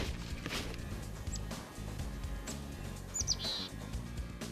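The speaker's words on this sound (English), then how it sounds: "you start seeing all these little chickadee birds" Small chickadees chirp in short, bright bursts along a slippery woodland hiking trail, a few scattered calls over steady low outdoor rumble and footsteps.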